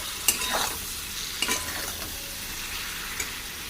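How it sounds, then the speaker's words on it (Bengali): Ground coriander-cumin, Kashmiri chili and four chilies stir-fried in a pan, a close steady sizzle with a few sharp scrapes of the spatula against the pan. "এবার মশলা ভালো করে কষিয়ে নেব।"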